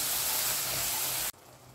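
Water poured into a pan of hot masala with turmeric and cumin powder, a loud steady sizzle and hiss that cuts off abruptly, leaving faint background noise.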